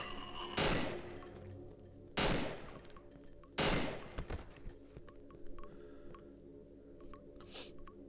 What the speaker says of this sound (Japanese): これは多分バースト射撃とかができるハンドガンってことだろうけど